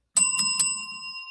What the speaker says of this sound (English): I got to give you 3 bells, Jeff.